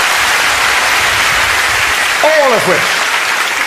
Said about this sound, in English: Give Simon a round of applause, ladies and gentlemen